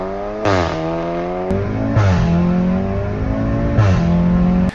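A tuned Audi A3 with a DSG dual-clutch gearbox revs hard through quick upshifts, three climbing engine pulls with a sharp crack at each gear change, loud and close with no talking.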